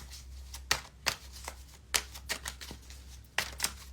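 A deck of tarot cards is shuffled by hand in a quiet room, a series of close, crisp riffles and taps arriving in irregular bursts with brief pauses between.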